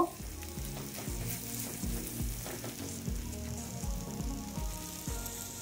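Paratha and egg frying in a pan at home, a steady close sizzle broken by repeated clattering knocks and scrapes of a utensil, with no talking.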